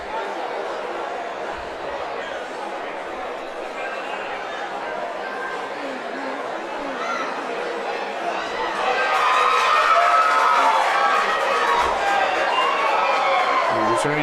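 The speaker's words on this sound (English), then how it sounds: "I'm sure you guys can hear the crowd behind us. It is electric here." A large crowd at a bocce tournament, the World Series of Bocce, chatters and cheers throughout, growing louder and more excited around the middle, with a voice talking over it.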